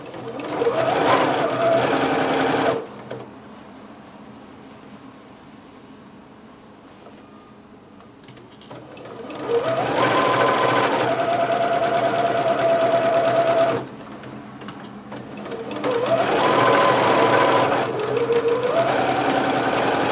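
Sewing machine stitching a seam in three runs of fast, steady whirring, separated by quieter pauses, close and loud.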